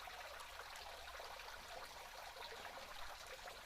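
Creek water flows steadily on rural Missouri acreage with a waterfall, fed from two sides; a faint, continuous rushing wash with no voices.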